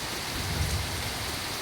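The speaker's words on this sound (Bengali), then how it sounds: "পুরো চারিদিকে বৃষ্টি, প্রচণ্ড প্রচণ্ড বৃষ্টি হচ্ছে" Heavy rain pours down steadily during a two-day storm with flooded streets, a dense, even roar of falling water without a break.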